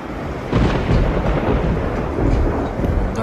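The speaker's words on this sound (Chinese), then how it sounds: "是不是下雨了？" Rumbling thunder rolls in low, heavy waves over falling rain outside a room, loud and continuous with no talking.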